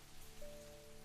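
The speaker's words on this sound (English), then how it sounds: "You can hear the plink as it rings off of metal roofs and buckets" Rain patters steadily on metal roofs and buckets, a soft continuous hiss with faint plinks, beneath a quiet sustained musical tone.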